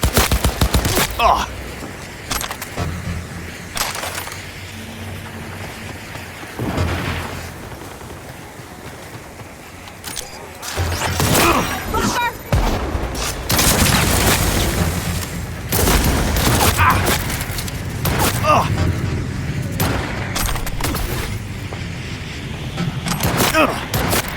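Gunfire rattles through a firefight in Cyberpunk 2077, with rapid bursts and heavy booms coming in waves, loud and close, while voices shout over the shooting.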